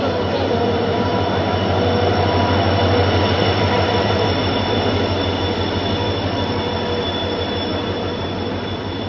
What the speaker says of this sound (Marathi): आमची ट्रेन आली आहे आणि आता आम्ही चाललो गावाला.